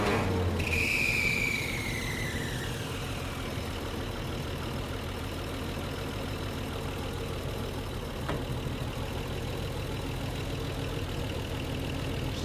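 Old engine that sat unused for 30 years idles steadily after being hand-choked, a low, even rumbling putter throughout, with a brief higher squeal near the start.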